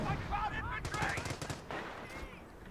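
Machine gun fire rattles in a rapid burst in a World War II strategy video game, quiet and set back, with gunshots and other battle noise scattered around it.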